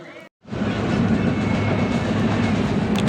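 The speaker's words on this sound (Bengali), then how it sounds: "তো ট্রেনের অ্যানাউন্সমেন্ট করে দিচ্ছে, ট্রেনটা এবারে আসছে।" Train arriving and running at a station before a ride toward Kharagpur, a sudden onset after a brief gap into a loud continuous rumble and rattle of wheels and cars, close by.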